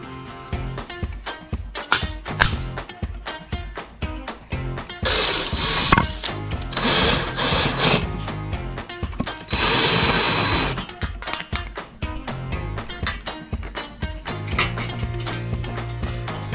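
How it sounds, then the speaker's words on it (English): A power drill bores two holes into a metal bar mounted against an aluminium sheet, its whine rising and falling in long close bursts with brief pauses between passes. "We just need to drill 2 holes into the bar"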